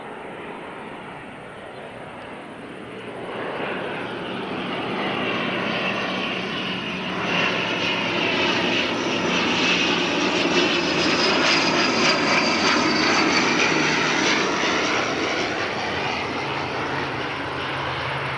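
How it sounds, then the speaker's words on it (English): An ATR turboprop airliner arriving from Wellington passes by, its propeller engine drone swelling from a moderate hum to a loud, sustained roar with a rising and falling whine as it goes overhead. "It's not a dashie at all, it's an ATR."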